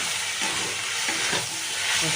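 Fenugreek greens fry in a hot pan, giving a steady, close sizzle with occasional stirring scrapes.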